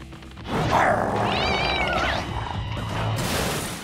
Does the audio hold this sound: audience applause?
no